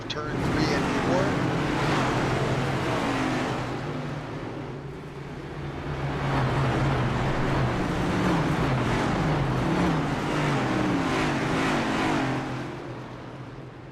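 Stock cars race at Talladega Superspeedway, a pack of engines droning and swelling past with a windy rush while a commentator talks over them.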